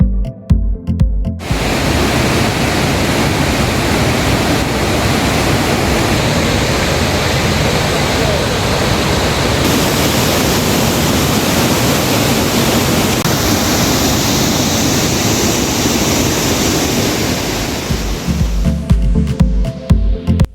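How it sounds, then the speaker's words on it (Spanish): Las Golondrinas waterfall in the Lacandon jungle of Chiapas roars as a constant, loud, broadband rush of falling water that stays steady for the whole stretch, with no voices. "exploramos la cascada Las Golondrinas"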